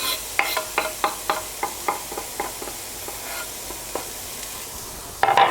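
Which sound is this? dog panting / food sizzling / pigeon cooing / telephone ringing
food sizzling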